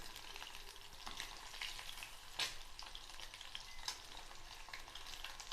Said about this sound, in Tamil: இதே போல் மசாலா போட்டு பொரிச்சி எடுத்துக்கலாம்